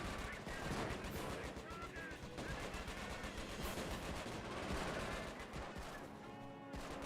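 Machine gun and sniper fire in a war video game rattle in dense, rapid bursts with heavier single shots mixed in, loud and continuous.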